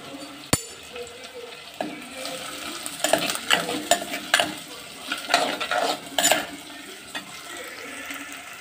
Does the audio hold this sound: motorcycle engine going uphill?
no